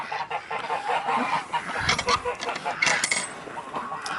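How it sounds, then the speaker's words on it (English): Farm fowl, identified as Pekin ducks, call repeatedly in a noisy outdoor pen, with overlapping honking quacks close by and a voice briefly audible among them. "these are pekin ducks. Your classic pekins. Hey? And the females will quack"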